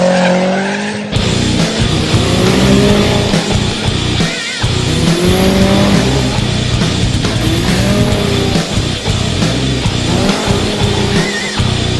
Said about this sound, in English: I mean, like, I've never heard a turbo this loud before.